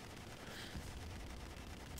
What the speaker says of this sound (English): So here I'm single firing with the front cannon at this ship